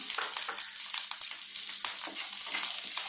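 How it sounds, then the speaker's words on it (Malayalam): Raw peanuts fry in a pan with curry leaves, giving a bright, crackling sizzle with quick popping spatters and the repeated scrape and tap of a spoon stirring, close and without talk. "ഇനി കപ്പലണ്ടി ഒന്ന് ബ്രൗൺ കളറാണ് അതുവരെ നമുക്ക് ഇളക്കിക്കൊണ്ടിരിക്കാം"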